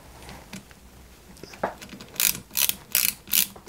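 Ratchet screwdriver driving a screw into metal parts of a 1/8 scale 1989 Batmobile model: a few faint clicks, then a quick run of loud, close ratcheting bursts toward the end.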